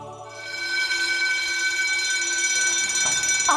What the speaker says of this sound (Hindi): अब क्या हुआ? Fire alarm?